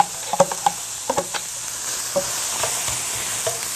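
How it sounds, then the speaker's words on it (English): Onions fry in a pan with a steady, bright sizzle, broken by a few sharp stirring clicks and scrapes; close and fairly loud, with no talking. "It's already starting to sizzle."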